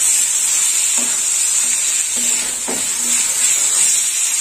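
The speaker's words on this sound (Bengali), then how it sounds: "মাছটা একটু সঙ্গে কষে দেবো মশলার সাথে, তারপর জল দেবো।" Fish pieces sizzle steadily in a hot pan as they are stir-fried with spices, a constant bright frying hiss broken by a few soft scrapes and knocks of stirring.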